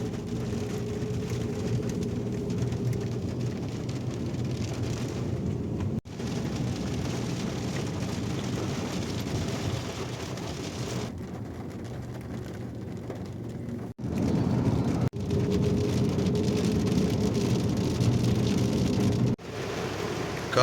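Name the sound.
heavy rain outside a mosque in Malaysia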